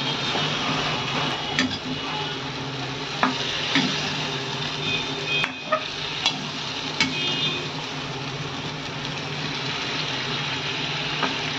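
Marinated chicken and onion fry in a pan with a steady, loud sizzle and frequent scraping stirs and clinks, with no talking.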